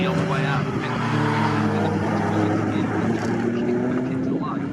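A saloon racing car at Snetterton pulling out of the pits with a slightly rough, uneven engine note, droning loudly nearby while a commentator talks over it.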